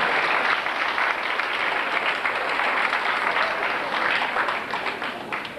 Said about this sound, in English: Let's give our moms and dads a good round of applause.